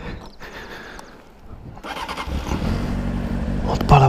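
A Honda Hornet CB600S motorcycle engine cranks and catches partway through, then runs close by with a rising rumble. Voices are heard alongside it.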